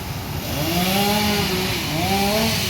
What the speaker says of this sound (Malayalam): അപ്പോൾ അത് കെട്ടിടം പൊളിക്കുന്നു ആൽമരം മുറിക്കുന്നു